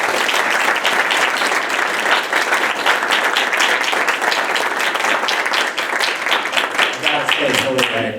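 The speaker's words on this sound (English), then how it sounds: "Let's give our girls a round of applause." Audience applauding the girls' swim team at a school board meeting, a steady, dense round of clapping filling the room for the whole stretch and fading slightly at the end.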